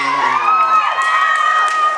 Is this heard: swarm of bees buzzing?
no